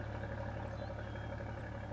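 A tractor engine idles at a steady, low, even hum in the off-road driving game Spin Tires, alone and moderately faint.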